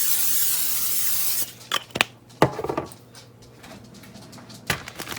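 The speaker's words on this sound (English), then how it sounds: "In a 9x13 pan, I'm going to spray it with some cooking spray." Cooking spray hisses into a 9x13 baking pan in one long steady burst, followed by the can clicking and rattling with short sharp knocks close by.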